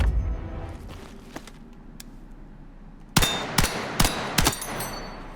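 Loud SMG gunfire in Battlefield 6 cracks out in sharp clanging bursts, several quick shots clustered after a quieter stretch of background game noise.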